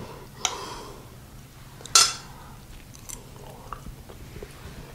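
A bite of cheesy rigatoni pizza pie is taken and chewed up close, one sharp clink of cutlery on a plate standing out, followed by soft, quiet mouth sounds.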